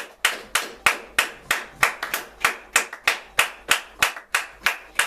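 A church congregation claps together in praise, a steady, even rhythm of sharp, loud hand claps, about three per second, with no voices.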